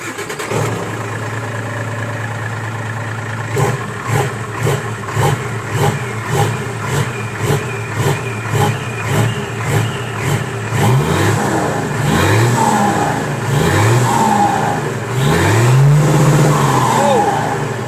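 A modified car with a swapped-in 8D engine revs hard and bounces off the rev limiter in a rapid, stuttering pulse, then surges in longer revs, loud and close, with voices talking over it toward the end.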